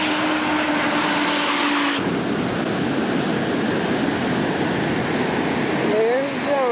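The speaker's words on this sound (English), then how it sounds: "There's John swimming in the huge waves." Large ocean waves at a Cancun beach roar as a loud, continuous wash of surf, with a sudden shift in level partway through and a voice faintly audible near the end.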